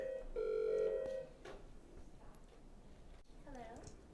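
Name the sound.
telephone ringing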